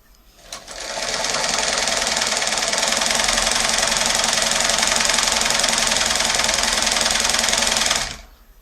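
Singer 224 sewing machine running a zigzag stitch on knit fabric while unmounted from its table so it shakes, a steady loud mechanical whir with rapid needle knocking that starts abruptly, holds for about seven seconds and stops.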